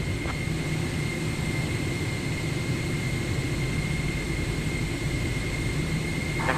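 An aircraft taxiing to the runway in Microsoft Flight Simulator 2024 gives a steady, loud engine drone with a faint high whine. The sound holds constant, with no talk over it.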